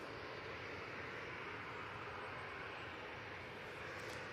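A TUI Boeing 737-800 departs Manchester Airport as a faint, distant, steady jet roar with a smooth broadband wash and no talking throughout.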